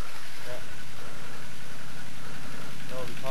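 Engine of an army tractor rumbling nearby at the Laos border in jungle, a steady low drone that stays loud, with a voice talking over it.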